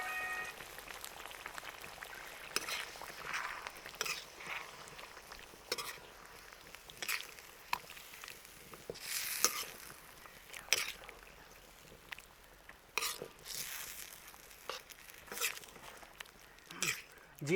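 Black pepper chicken karahi with yogurt simmers in a pan in a village setting, a quiet, crackling sizzle with scattered stirring scrapes and pops.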